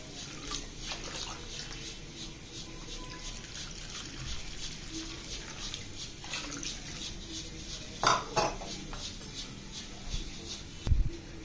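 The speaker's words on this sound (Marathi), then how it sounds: "मी व्यवस्थित मिश्रण एकजीव करून घेते" Rice batter for neer dosa is mixed with water in a vessel, giving a continuous wet sloshing and stirring sound with occasional clinks of a utensil against the pot, close by and steady throughout.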